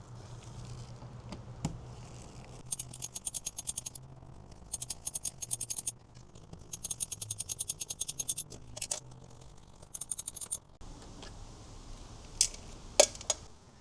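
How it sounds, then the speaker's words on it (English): Bursts of rapid ratchet clicking from an 8mm socket wrench loosening the front bumper bolts in the wheel well of a Fisker Ocean, several short runs of ticking separated by pauses, close and fairly faint. "Now we need to remove 3 bolts here, here, and here."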